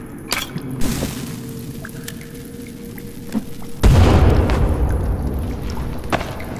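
Dynamite blows up in The Forest video game with a single heavy boom midway through, its rumbling tail lingering loudly after a few earlier scattered thuds and clicks.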